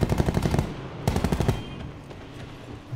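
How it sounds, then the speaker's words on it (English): Video game gunfire from Call of Duty Black Ops 4 Blackout: two loud bursts of rapid automatic fire, the first around half a second long and the second a little shorter, then fading to a quieter background. "I hear gunfire."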